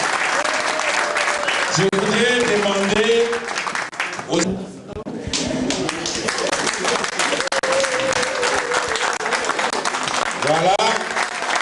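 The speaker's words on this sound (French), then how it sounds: "Applaudissez encore une fois pour les mamans et les amis." Dense applause from a crowd at a federation's official gathering, honoring mothers and friends, steady and loud throughout while someone speaks over it at several points.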